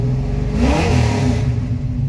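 A 1966 Ford Fairlane 500 two-door hardtop with a carbureted engine and lumpy cam revs up from idle, a loud close rise and fall of engine roar with no talking.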